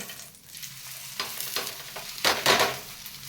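An onion paratha made from wheat flour roasts on a hot pan, giving a steady close sizzle with sharper bursts of crackle as it is pressed and turned, no voices.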